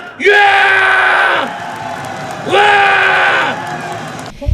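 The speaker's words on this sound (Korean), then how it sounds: "힘찬 함성과 박수 부탁합니다" A crowd at an outdoor rally in Dangjin raises two loud collective cheers, each a sustained roar of voices lasting about a second, separated by a brief lull of murmuring.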